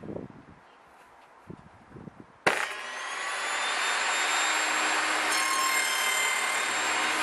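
Table saw with a box joint jig cutting wood: a few light knocks and handling sounds, then the blade spins up abruptly into a loud, sustained whine and rushing cut that continues to the end.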